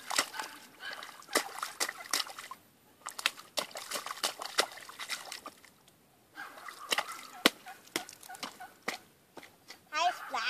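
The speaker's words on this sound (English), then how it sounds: "I splashed you." Feet stomp and splash in a muddy puddle outdoors, giving repeated wet slaps and sloshes in an uneven rhythm, close and clear, while a child and an adult talk and laugh over it.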